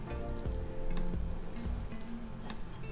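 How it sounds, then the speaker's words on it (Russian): Roasted potato stew in a pan, fresh from oven baking, sizzling and crackling steadily with soft pops, close and moderately loud, no talking. "Ой, еще шкварчит все."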